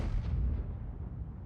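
A tank gun firing in the World of Tanks video game, a deep booming blast that rumbles and fades over about a second, loud and alone with no talk.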